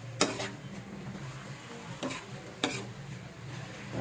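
Tomatoes sizzling softly in a pan while being stirred, with a few sharp scrapes and clicks of a utensil against the pan over a low, steady frying hiss.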